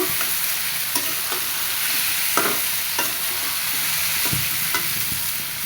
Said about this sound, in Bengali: একসাথে মশলা দিয়ে খুব ভালো মতো কষা হয়ে গেছে